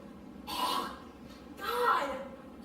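Two hoarse coughs from a character in a stage musical, about a second apart, at moderate volume over faint background noise.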